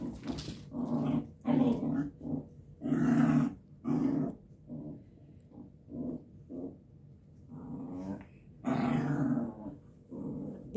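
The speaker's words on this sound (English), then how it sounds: "Most of that growling is mom." A mother dog growls playfully in a long series of rumbling, throaty bursts, close and loud, rising and falling in uneven pulses with short gaps between them.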